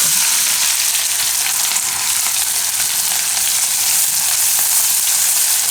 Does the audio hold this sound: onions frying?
yes